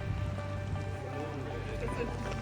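Steady rain patters across a surface in Tromsø, Norway, at night, a continuous wash of drops with faint voices murmuring beneath.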